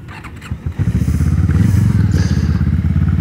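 A motorcycle engine is revved up from idle in a riding lesson, with rapid throttle blips building to a loud, rough, pulsing drone close by.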